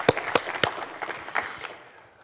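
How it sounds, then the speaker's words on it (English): Audience applause at the Embedded Linux Conference closing game, a sparse scatter of individual claps from a small crowd that thins out and fades within about two seconds. "So let's give them a round of applause"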